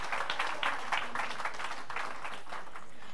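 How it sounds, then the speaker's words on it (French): An audience claps for a pastor during a sermon, a soft, fairly brief patter of hands that stays moderate in loudness and fades toward the end. "Yes, clap for me."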